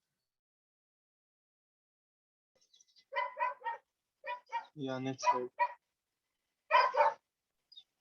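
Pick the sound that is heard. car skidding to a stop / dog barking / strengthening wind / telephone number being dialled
dog barking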